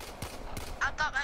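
Pistol gunfire in Warframe sounds as several sharp, close cracks, widely spaced at first and then in a quicker cluster of three bright shots near the end.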